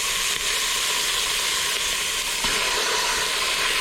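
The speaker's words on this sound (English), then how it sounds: "When you're sauteing chicken, that's the sound you should hear when you put it in your pan. It should be a sizzle." Bone-in chicken thighs frying skin down in a hot pan give a loud, steady, even sizzle that carries on without break, close by, with no voices.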